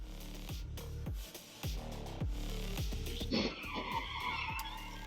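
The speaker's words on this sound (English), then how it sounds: "A red pickup driver failed to yield while turning across oncoming traffic. After a car hit the truck, both vehicles spun around 180 degrees." A car slams into a red pickup truck turning across traffic at an intersection, and both vehicles spin around, with engine and tire noise, a sudden impact partway through, and a harsh scraping skid that follows.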